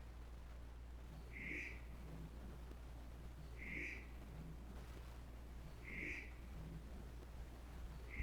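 A crow calls three times at even intervals in the inner courtyard of the old Nevada State Prison, each caw short and moderately distant over a steady low hum.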